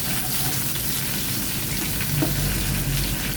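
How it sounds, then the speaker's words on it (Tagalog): Onions frying in a pan while being stirred, a steady loud sizzle with faint scraping and bubbling throughout, close up and without talk. "Sunod naman natin ang ating sibuyas. Haluin lang natin."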